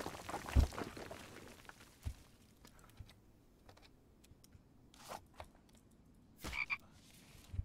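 Low croaks from a frog in a survival video game, scattered irregularly and fairly quiet, mixed with soft keyboard clicks and faint game ambience.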